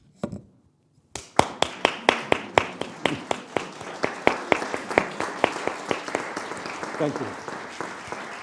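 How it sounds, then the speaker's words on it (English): Conference audience at the closing session of an academic meeting applauds after a speaker's concluding remarks, a steady run of sharp rhythmic claps starting abruptly and continuing evenly, with a brief spoken thanks at the start. "I would like to applaud you."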